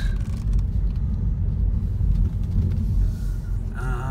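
A Subaru Levorg driving on the road under manual control, heard from inside the cabin as a steady low engine and tyre rumble with road noise, constant and moderately loud, no talking.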